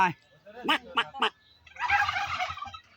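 Several domestic turkeys in a farmyard give a gobble: three sharp bursts of calls followed by a longer, rattling gobble, close by and fairly loud.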